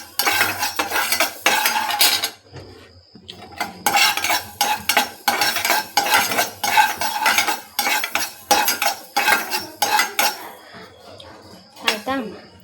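Fenugreek seeds stir-roasted dry in a pan for amla pickle, with a utensil scraping and clinking steadily against the metal in repeated close strokes, one brief pause partway through.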